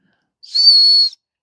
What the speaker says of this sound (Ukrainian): Ось тут у нас свисток